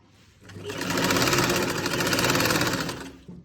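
A sewing machine stitching a salwar runs in one close, steady burst of rapid mechanical clatter lasting about two and a half seconds, then stops.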